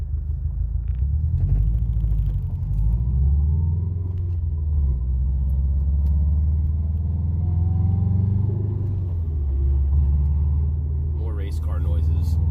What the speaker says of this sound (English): I can hear the transmission noise a lot more